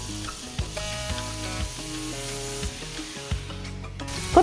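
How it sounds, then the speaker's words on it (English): Barbecue-sauced ribs sizzle on a grill preheated to 400 degrees Fahrenheit, a steady crackling hiss with a few sharper pops, set against tonal background music throughout. "Then you can put them right on the grill."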